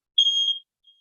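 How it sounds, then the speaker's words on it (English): A household smoke alarm gives one sharp, high-pitched beep lasting about half a second, followed by a much fainter brief chirp, in an otherwise silent room. "Sorry if you hear some beeping, my smoke alarm or something is going off,"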